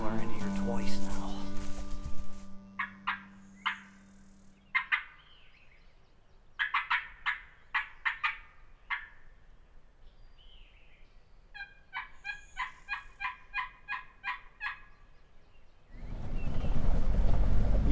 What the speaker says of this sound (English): I've heard a gobbler in here twice now.